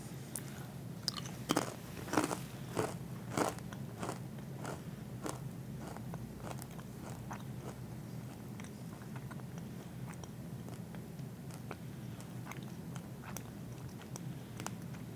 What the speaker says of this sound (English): it's super crunchy and the crackers are dry